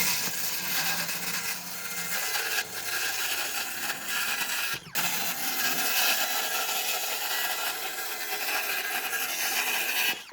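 Wood pieces being cut for a drill press cart, a steady rasping saw stroke sound running throughout at close range, briefly interrupted once midway, with no talking.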